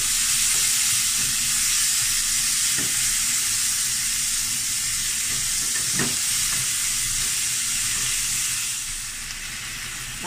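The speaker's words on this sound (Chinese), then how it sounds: "我哋炒一炒佢爆香咗佢咯喎。" Shiitake mushrooms and lean pork are stir-fried in a wok, filling the space with a loud, constant hiss and occasional scraping stirs, fading slightly at the end.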